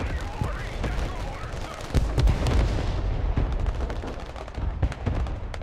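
Artillery and gunfire from a fire mission in the war video game Broken Arrow rumble in repeated booms and sharp cracks, with heavier impacts about midway over a constant battle din.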